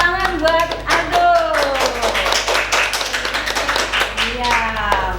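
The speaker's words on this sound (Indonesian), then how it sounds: "tepuk tangan buat Aldo." Children clapping together in a Sunday school class, quick rhythmic hand claps under a voice and children's voices talking and singing.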